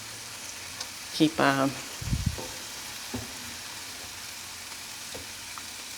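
Ground beef for goulash fries and is stirred in a pan. A steady soft sizzle carries a few louder scraping stirs early on, with a brief voice over it.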